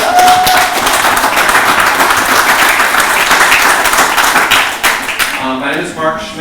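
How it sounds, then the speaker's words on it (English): Audience at an Independence Day gathering breaking into loud, close, sustained applause that holds strong before fading out near the end, with a few voices and a whistle audible over the clapping. "can we have a round of applause for Independence Day?"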